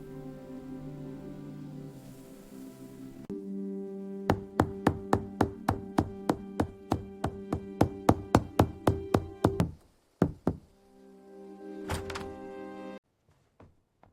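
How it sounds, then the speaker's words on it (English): Gentle knocking on a wooden cottage door in an animated fairy tale, a long run of about twenty evenly spaced soft taps over a steady musical background, then a few final knocks after a brief pause. "Let us knock gently."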